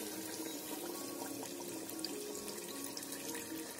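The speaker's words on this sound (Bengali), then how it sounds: "এখন আমরা যে নারকেলের দুধটা করেছিলাম সেইটা ঢেলে দিচ্ছি।" Homemade coconut milk pours into a pot of duck curry in a continuous, soft, liquid stream, fairly faint and steady throughout with no voices.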